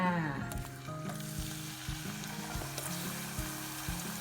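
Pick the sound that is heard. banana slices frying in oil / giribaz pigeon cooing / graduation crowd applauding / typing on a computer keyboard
banana slices frying in oil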